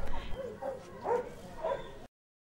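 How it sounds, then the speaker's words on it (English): Dogs at a Colombian army base that are being trained to detect explosives give a few short, mid-distance barks and yips spread across two seconds, then the clip cuts to silence. "Dogs at this army base in Colombia are being trained to sniff out explosives."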